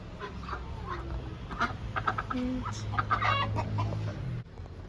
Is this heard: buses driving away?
no